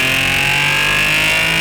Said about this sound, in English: gratuitous shots of the car accelerating with dubbed over sounds from my straight pipe